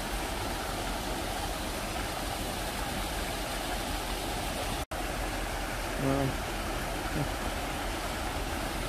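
A garden waterfall at Crystal Springs Rhododendron Gardens pours with a constant, dense rush of water, and a brief voice rises over it near the end.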